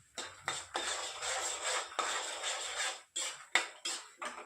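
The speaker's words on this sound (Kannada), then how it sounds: "ಶೇಂಗಾ ಬೀಜ ಹಾಕ್ತಿದ್ದೀನಿ ನಾನು. ಈಗ ಚೆನ್ನಾಗಿ ಫ್ರೈ ಮಾಡನ್ರಿ." Raw peanuts (groundnuts) fry in oil in a pan for North Karnataka-style chitranna, giving close, crackly bursts of scraping and rattling as they are stirred, with short pauses between strokes and no talking.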